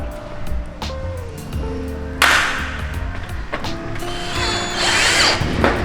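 A power drill drives screws while a glass-top cabinet is assembled, whirring bursts and rising motor whine with ratcheting clicks, loud and close, no speech.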